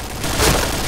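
Grenade explosion in the video game PointBlank, a single loud, close boom that swells and holds for under a second.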